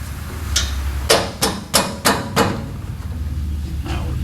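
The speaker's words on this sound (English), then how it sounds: "I'm going to get a pry bar" A pry bar works at an aluminum heater delete plate on a 1965 Buick Skylark GS with a 455, giving five or six sharp metallic knocks in quick succession, close and distinct over low background rumble.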